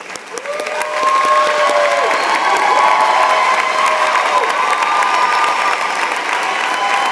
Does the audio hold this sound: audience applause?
yes